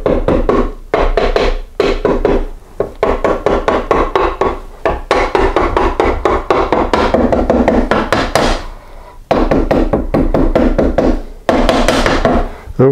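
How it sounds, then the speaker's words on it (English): Hammer tapping the transmission cover of a 1983 BMW R100RS motorcycle during assembly, a rapid series of sharp metallic knocks close up, in bursts with short pauses between them. "Now I'm just going to tap it with my hammer."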